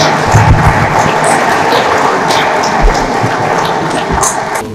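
A crowd at a women's business empowerment summit makes loud, continuous noise with cheering and scattered thumps, a thick wash of sound filling the whole stretch.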